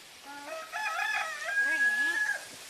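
Blue-fronted Amazon parrot gives a squawking, warbling call with rising and falling whistled tones, fairly close and moderately loud, lasting a couple of seconds in a quiet room.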